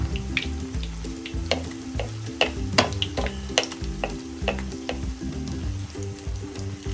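Pieces of food being fried and turned in a pan, an ongoing sizzle punctuated by repeated sharp spoon clicks and scrapes, close, over a low steady hum with no talking.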